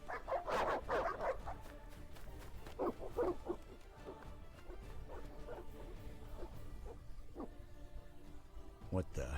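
Evil dogs in The Witcher video game bark in several loud, close bursts at the start, then sporadic yelps and barks continue at a lower level over a tense background.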